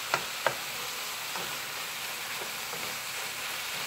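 Tofu scramble with spices frying in a pan, a soft continuous sizzle with a couple of sharp spatula taps near the start and light stirring scrapes, close and fairly quiet.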